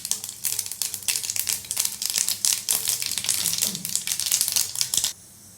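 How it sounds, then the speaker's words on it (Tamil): Dense, rapid crackling and popping of mustard seeds bursting in hot oil in a pan, continuing steadily for several seconds before cutting off abruptly. "எண்ணெய் காஞ்சதும் கடுகு போட்டுக்கோங்க."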